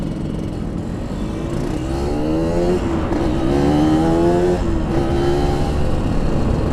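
A Yamaha RX King motorcycle ridden on the road in Makassar, its engine droning steadily and rising in pitch as it speeds up, loud and close with constant wind and road noise.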